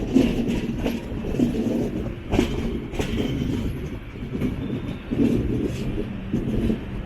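A passenger train pulls into platform 4 at Kozhikode station, wheels rumbling and clacking over rail joints in a steady rhythm, with occasional sharper knocks and faint squeal, heard close from on board.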